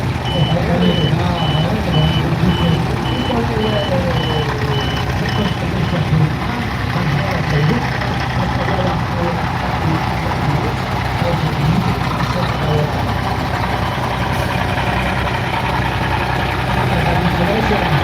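A heavy tractor rolls past in a festival parade, its engine a loud low rumble and idle over continuous crowd noise, with a repeating reversing-style beep early on and people talking throughout.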